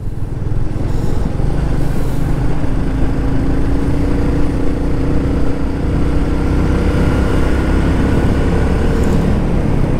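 A motorcycle on a rural road ride overtaking another rider, with a loud, steady engine drone and heavy wind rush that holds constant throughout, no clear rise or fall, and no voices.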